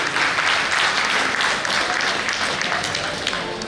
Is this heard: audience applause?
yes